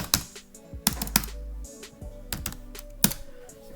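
Quick keystrokes on a Chromebook keyboard, a short burst of sharp, close clicks at an uneven rhythm in a quiet room.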